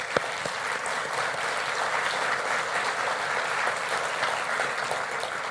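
At the 2025 Davenport State of the City Address, a large audience gives steady, sustained applause for the city's financial staff. The clapping stays even and full throughout, with no talk over it.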